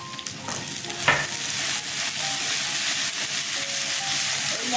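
Spices such as turmeric, chilli, cumin and coriander powder sizzle and fry with onion in a pan for pineapple katla, a steady close hiss with stirring scrapes throughout.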